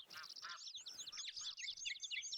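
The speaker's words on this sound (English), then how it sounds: "We also seem to have some geese above us" A flock of geese calls overhead in the Call of the Wild hunting game: rapid, overlapping honks and yelps run continuously and fairly loud throughout, with no talking.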